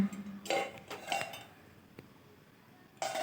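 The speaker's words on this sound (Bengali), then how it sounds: "এ দেখুন ভাতের থালা ঢাকাটা দিয়ে দিলাম" A metal rice plate is set down as a lid over a karahi of steaming chitoi pitha, giving a few sharp metallic clanks and rattles close by, with quiet pauses between them.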